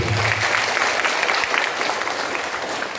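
Loud, dense clapping from a crowd at a community association gathering, steady throughout, filling the room without any talking.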